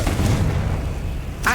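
A Confringo blasting spell going off in Hogwarts Legacy, a loud, low booming explosion that swells and then fades, ending with a brief burst of another sound.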